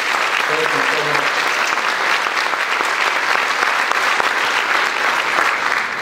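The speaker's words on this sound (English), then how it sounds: "So if we could give those groups another round of applause." Audience at a high school senior awards ceremony breaks into sustained, dense applause that fills the hall evenly, with a brief voice audible early on.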